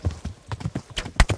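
Hoofbeats of a horse in the medieval game Kingdom Come: Deliverance, a run of irregular thudding clip-clops at close range, with one heavier strike standing out near the end.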